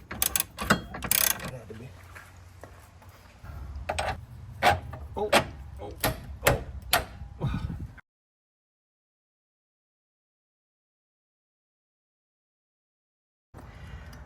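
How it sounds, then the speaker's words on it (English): An 18 mm wrench works the suspension bolts on a Porsche 986 Boxster during tuning fork and end link replacement, producing close, sharp ratcheting clicks in uneven bursts that stop abruptly into silence, with a brief return of noise at the end. "All right, the bolts are now tightened."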